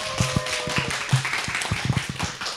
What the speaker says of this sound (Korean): 다음에는 루아흐님 박수로 모셔보도록 할게요